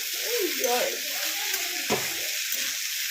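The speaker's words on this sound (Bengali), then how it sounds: "দেখুন এখানে আলু আর কড়াইশুঁটিটা একটু ভালো করে ভেজে নেব" Potatoes and green peas fry in a wok for a Bengali potato curry, giving a soft steady sizzle with a stirring clatter near the middle while a voice talks over it.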